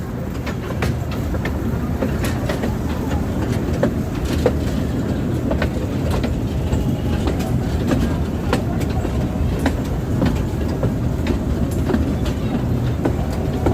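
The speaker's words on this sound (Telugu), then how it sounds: "ఇది మనకి ఈ ట్రైన్ టాయ్ ట్రైన్ దొరుకుతుంది మీకు" A mini toy train runs near the boat club in Ooty, a steady close rumble with regular clickety-clack wheel clicks that continue throughout.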